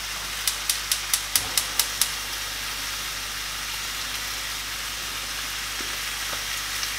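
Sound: food sizzling in a frying pan

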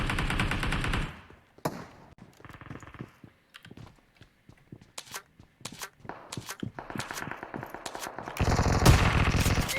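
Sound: shotgun firing in a video game

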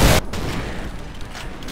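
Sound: AK-47 gunfire in a video game

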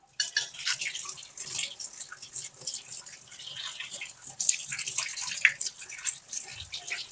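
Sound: washing vegetables (ridge gourd) in water

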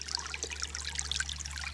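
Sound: small stream of water flowing over stones

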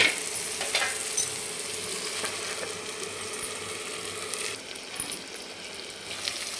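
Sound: tomatoes frying in oil on medium gas

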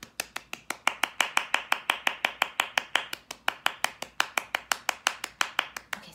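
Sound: hand clapping a fast "baby runs" rhythm

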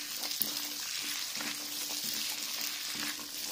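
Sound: stir-frying Chinese sausage with garlic moss in a wok

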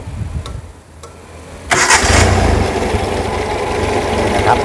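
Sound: Volvo 244 engine with Weber carburetor starting

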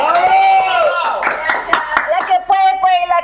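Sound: applause from the audience

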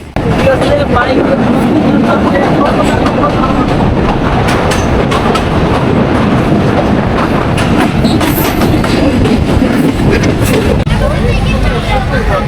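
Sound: commuter train running

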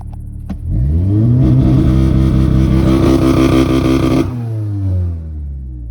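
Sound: Audi S3 2.0 TFSI engine revving, launch control

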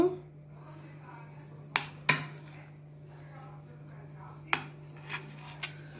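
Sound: cutting set egg mixture into pieces on a plate

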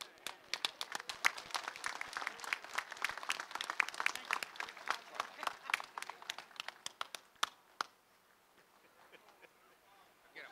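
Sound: audience applause

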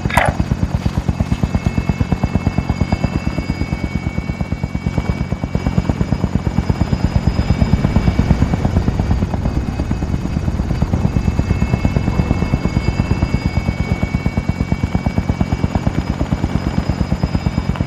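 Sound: extraction helicopter flying in video game Call of Duty Modern Warfare

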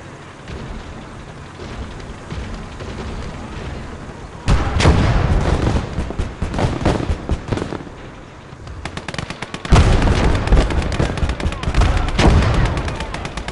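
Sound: mortar or machine gun fire in the video game Gates of Hell

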